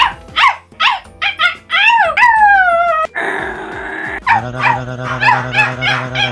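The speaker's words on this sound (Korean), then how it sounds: "저렇게 짖을 때 간식 주면 안 돼요." A Shiba Inu barks, yips and howls loudly and close by, with sharp repeated barks at first, then drawn-out rising howls and more rapid barking. It is heard alone, with no talking.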